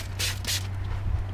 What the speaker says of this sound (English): just hitting it with this all-purpose cleaner, spraying everything down